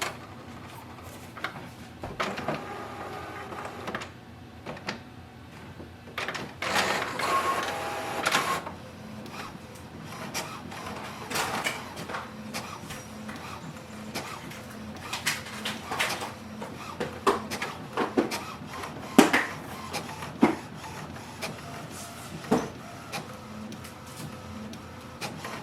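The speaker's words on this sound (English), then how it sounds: "So printer has printed the alignment page and we have to scan it." An HP OfficeJet Pro 8139e printer prints an alignment page, with a quiet stretch of mechanical whirring, paper-feed rolling and intermittent sharp clicks and clunks as the print head shuttles back and forth.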